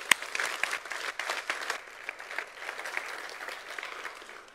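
An audience at an evening lecture on autism breaks into steady applause after a speaker is introduced, the clapping dense and sustained throughout, with a sharper burst at the start before settling into an even patter.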